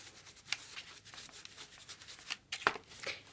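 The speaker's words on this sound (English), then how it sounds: "Now I'm going to rub on some blue and some green." Paint is rubbed onto a papier-mâché pot in quiet, scratchy brushing and rubbing strokes, with a few sharper clicks and taps scattered among the irregular soft scrapes.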